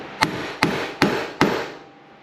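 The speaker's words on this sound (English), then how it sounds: "Notice I'm using this hammer, you know, kind of like a dead blow to put that in there" A dead-blow hammer taps a seal into an RB26 individual throttle body, four evenly spaced, solid close knocks, each with a short decaying ring, with no speech.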